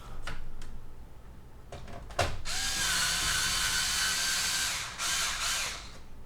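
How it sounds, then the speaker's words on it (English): Electric screwdriver during a PC build, with a few clicks and then a steady, close, high whirring motor run of about three seconds that dips briefly and carries on. "I want to try my electric screwdriver."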